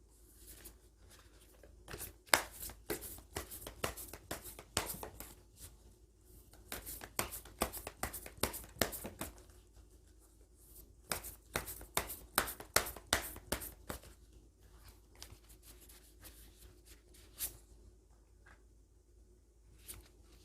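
Oracle cards for a tarot reading are shuffled and drawn in dense bursts of crisp riffling and soft slaps, close and intermittent, with brief quieter pauses between handling.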